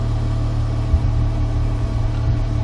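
A Chrysler PT Cruiser engine idles steadily while warming up during a spark plug tune-up, a low, even rumble close by with a slight uneven beat and no talk.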